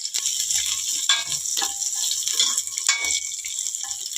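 Curry leaves crackle and sizzle in hot oil with dried red chillies for a greens soup, a close, continuous frying hiss punctuated by sharp spitting pops and faint stirring clatter.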